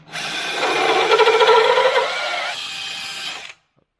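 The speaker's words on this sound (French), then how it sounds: "On prend notre perceuse, on vient dans le bambou pour venir enlever le nœud qui est au centre." A power drill bores out the node at the center of a bamboo pole, a loud close whirring and grinding that runs for about three seconds and then cuts off.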